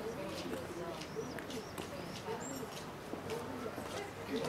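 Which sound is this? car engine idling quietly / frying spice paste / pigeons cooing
pigeons cooing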